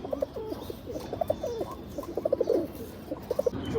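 Pigeons at a bird sale in Ichapur, West Bengal coo repeatedly in short soft rounded bursts. Fairly close, over a low murmur of background noise.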